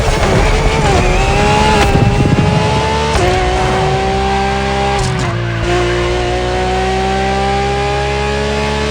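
BMW R1200 GS motorbike engine in the racing game The Crew Motorfest, a loud steady drone that climbs in pitch through the gears, with tire and skid noise underneath and no break in the sound.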